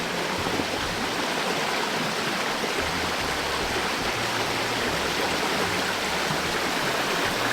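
Waterfalls pouring into a lake on Réunion island give a steady, dense roar of rushing water, loud and constant from start to finish with no voices.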